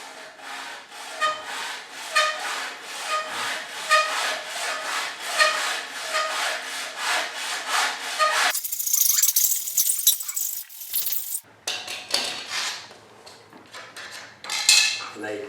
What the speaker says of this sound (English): You want to put your saw on there and you want to go very, very slowly to get it started.